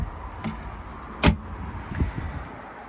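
The tackle center drawer on a Grady White 236 fishing boat slides open with a sharp thud at the stop, followed by a few lighter knocks against a low outdoor background.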